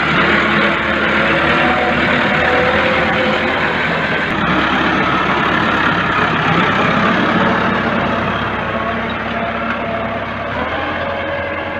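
A tractor engine runs steadily on a farm, a loud continuous rumble that holds an even level throughout with no talk.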